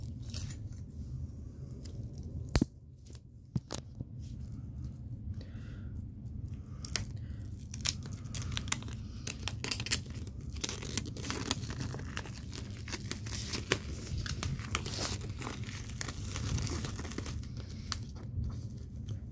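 Keys used to cut open the plastic wrapping on a DVD or vinyl record, giving a steady run of crinkling, tearing and scraping with occasional sharp clicks, close up and continuous, with no talking.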